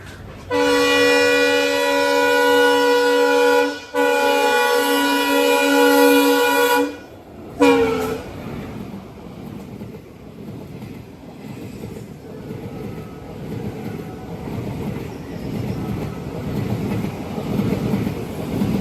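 A diesel locomotive hauling the Mangala Lakshadweep Express sounds a long, loud horn blast, breaks off briefly and blows again, then gives a short final toot before the steady rumble of the passing train carries on alone.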